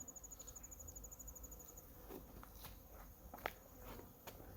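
Faint, high whining buzz of wasps flying about outdoors at an abandoned castle mansion, with a few soft footsteps and rustles nearby.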